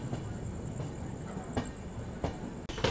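Rolling stock at a locomotive shed by a railway station on a journey from Jammu Tawi, with a steady low rumble, a sustained high hiss, and a few sharp metallic clanks near the end.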